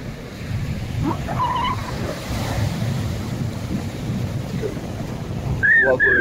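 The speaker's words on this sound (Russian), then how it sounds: "Ну и ветер с моря дует в лицо. Поэтому вот такие у нас и волны сегодня." Stormy sea waves rolling onto a beach on a windy day, with a constant low rumble of surf and gusting wind buffeting the microphone, plus a few faint brief higher sounds.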